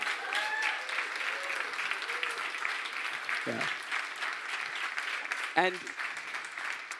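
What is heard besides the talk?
audience applause for the Göttingen team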